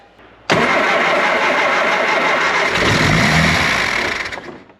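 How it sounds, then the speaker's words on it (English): A car engine cranks and catches abruptly, roaring to life and running loudly and steadily before easing off at the end. "We've got spark, so it should fire up."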